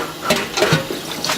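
Water running in a kitchen sink while cucumbers are rinsed for mustard pickles, a short close splashing with a few soft clunks and gurgles, no talk.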